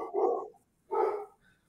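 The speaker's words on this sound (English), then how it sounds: "my dog is barking." A dog barks twice in a room, each bark a short loud burst spaced about a second apart, fairly close.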